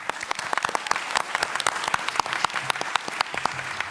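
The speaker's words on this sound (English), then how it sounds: "So big applause for that." Steady, dense applause from a conference audience at the ANGEL Conference 2025 final panel, many hands clapping continuously at an even level with no voices.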